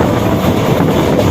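An Intercity passenger train rolls along, giving a loud, close, continuous broadband rumble of wheels and carriage noise, steady from start to finish.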